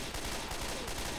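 Sustained rapid gunfire from a Left 4 Dead 2 firefight against a tank, dense and continuous across the whole moment with no voices over it.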